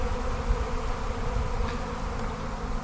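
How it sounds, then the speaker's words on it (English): A swarm of honey bees hums as a dense, continuous buzz, close and fairly loud, with individual bees droning past now and then. "We've got some senior bees here, and of course, scouts and foragers are out looking for a new location to be."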